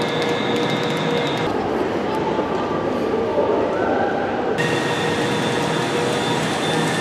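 Steady rumble and hum inside the Caledonian Sleeper train travelling from Glasgow to London Euston, with faint tonal whines and a muffled voice in the background.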